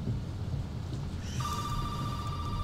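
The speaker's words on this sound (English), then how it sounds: "Why am I gonna answer the phone?" An old telephone rings inside the Resident Evil 7 horror game, a steady electronic bell tone starting partway through over a low rumbling ambience, close and clear with no talking.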